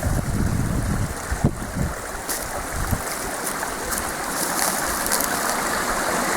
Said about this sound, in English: And the water flowing through.